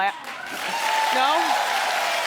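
A television talk-show studio audience claps in a steady, continuous wash, with a voice speaking and exclaiming over the applause.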